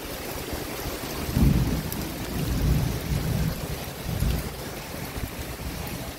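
Steady monsoon rain hisses on surfaces, with low rumbling swells rising and fading through it.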